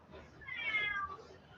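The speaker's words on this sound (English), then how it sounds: "My cat is meowing outside the door" A house cat meows from just outside a door, one drawn-out, fairly clear call lasting under a second over a quiet room.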